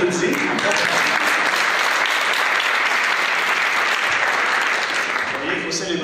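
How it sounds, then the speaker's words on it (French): Audience at a public information session of a health board applauding a staff member, a sustained, even wash of clapping lasting several seconds before tapering off. "On l'applaudit."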